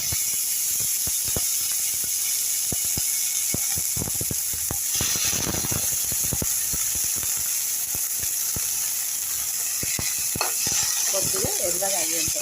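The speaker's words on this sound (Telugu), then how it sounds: "దీంట్లోనే ఆనియన్స్ కూడా వేయించుకోండి." Grated coconut and onions fry together in a pan, giving a soft sizzle broken by frequent sharp clicks and scrapes from stirring. A steady hiss runs underneath throughout.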